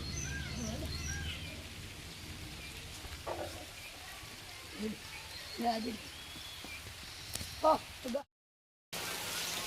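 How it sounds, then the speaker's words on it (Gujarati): Heavy rain pours down in a steady, faint wash of hiss, with scattered bird calls and someone talking over it. "તો મિત્રો વરસાદ ચાલુ થઈ ગયો છે"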